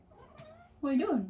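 A pet cat gives one loud, drawn-out meow near the microphone at the end, after a person's brief spoken question.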